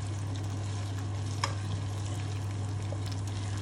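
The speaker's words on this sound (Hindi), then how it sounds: "तो ये हम डाल देते हैं लहसुन अदरक का पेस्ट, और इसको थोड़ी देर भून लेते हैं" Garlic ginger paste frying in hot oil for chicken korma gives a steady, close sizzle with a constant low hum behind it and a couple of faint clinks of stirring.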